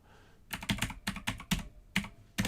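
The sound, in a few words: typing on a mechanical keyboard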